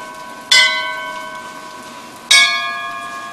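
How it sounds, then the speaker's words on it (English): Two loud bell strikes in the video game Bioshock Infinite, each a bright clang with a long ringing decay, spaced about two seconds apart, with no talk. "So let's use the bells."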